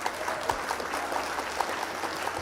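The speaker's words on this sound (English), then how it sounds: "Round of applause." Steady round of clapping from a small group, even and continuous without any voices.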